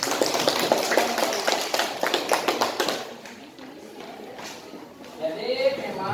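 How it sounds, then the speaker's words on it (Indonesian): A ninth-grade class claps for group 4, brisk rhythmic clapping for about three seconds that then fades out, leaving quieter room sound. "Beri tepuk tangan untuk kelompok 4."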